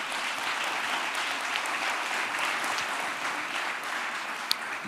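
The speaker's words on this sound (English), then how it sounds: "let's give them a round of applause" A town hall audience applauds public servants, a dense, steady wash of clapping from a large crowd that holds evenly throughout with no break.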